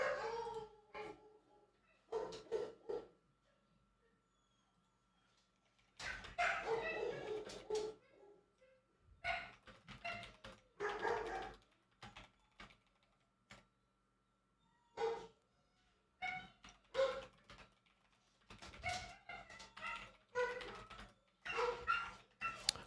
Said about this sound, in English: I'm sure you guys can all hear the dogs in the background.